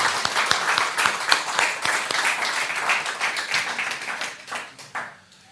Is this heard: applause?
yes